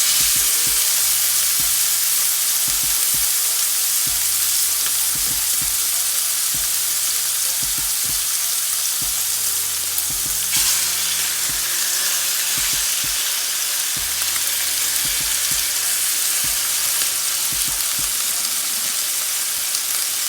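A New York strip steak sears untouched in a hot pan, giving a loud, steady frying sizzle that runs unbroken for the whole stretch with faint low scraping or bubbling underneath and no voices.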